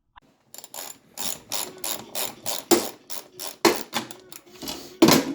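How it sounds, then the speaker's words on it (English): A ratchet works nuts loose on a snowmobile gearbox, close rhythmic bursts of clicking strokes, fairly quiet and repeated steadily over several seconds. "Getting a few nuts off here and there."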